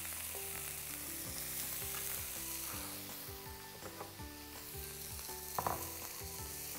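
Beef frying in a pan for samun filling: a steady, close sizzle that runs unbroken, with a few soft scrapes and a brief clatter near the end.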